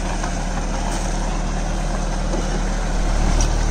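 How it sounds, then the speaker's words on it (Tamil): A Captain 283 4WD mini tractor with a reversible MB plough attached runs steadily at close range, a continuous low engine drone that grows slightly louder near the end. "மினி டிராக்டரில் ரிவர்சபிள் எம்பி ஃப்ளோ வந்து அட்டாச் பண்ணிக்கிறாங்க."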